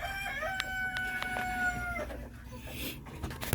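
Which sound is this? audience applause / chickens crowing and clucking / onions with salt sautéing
chickens crowing and clucking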